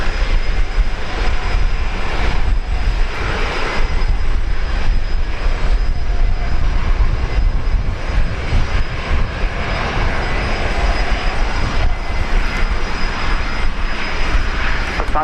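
Loud, continuous roar of airliner jet engines at Brisbane Airport, steady and close throughout with no break and no talk.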